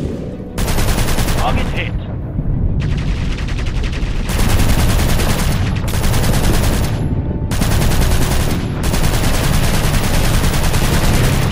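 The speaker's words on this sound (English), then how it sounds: "Anti-aircraft guns on the right" Anti-aircraft guns hammer away in bursts of rapid automatic fire in a WWII bomber game, loud and close, with brief gaps between long volleys and a short spoken line partway through.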